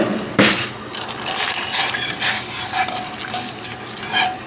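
Elbow macaroni being stirred in a pot of boiling water: a steady run of scraping, clattering spoon strokes against the pot over a bubbling hiss, close and fairly loud, with no talking.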